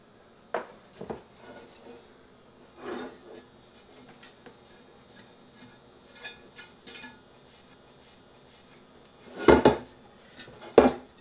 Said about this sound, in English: Another important step in immediate preparation is greasing the pan.